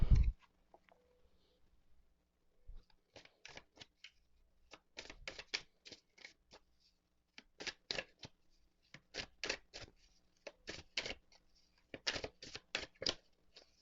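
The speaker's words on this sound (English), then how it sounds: "let's go ahead and shuffle the cards" Crisp papery tarot card shuffling in repeated bursts, riffles and flicks coming in quick clusters with brief pauses, close up and with no talking.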